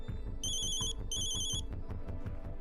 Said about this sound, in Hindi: या तो तू फोन उठा ले, नहीं तो साइलेंट कर